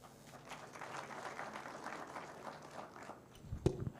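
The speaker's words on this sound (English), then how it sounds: "We can give a better round of applause" A crowd applauds at the official launch event of a natural resources management program, a dense, moderately loud wash of clapping that fades out near the end, followed by a brief thump.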